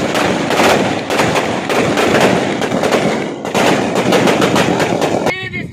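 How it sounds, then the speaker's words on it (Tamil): Firecrackers burst in a long rapid string at a political party celebration at a crossroads in Puducherry. Dense, loud crackling pops run continuously for several seconds, then pause briefly before resuming and cutting off near the end. "அதனைத் தொடர்ந்து பாக்கம் கூட்ரோட்டில் பட்டாசு வெடித்து இனிப்புகள் வழங்கி கொண்டாடப்பட்டது."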